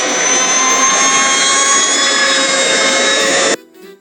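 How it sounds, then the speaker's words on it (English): A scooter engine whines at a loud, sustained high pitch through a narrow street, holding steady for several seconds before cutting off abruptly, with only a faint low remnant afterward. "The sound of a scooter echoed through the narrow street, growing louder with every heartbeat."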